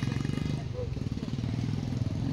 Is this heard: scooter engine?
yes